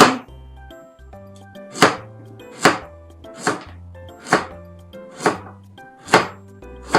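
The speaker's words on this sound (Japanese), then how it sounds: "薄く切って 薄くすぎるとちぎれるから難しいとこだけどね" A knife slicing a hard pumpkin into thin pieces on a cutting board, a close, sharp chop landing about every 0.7 seconds in a steady rhythm with faint tonal background music between strokes.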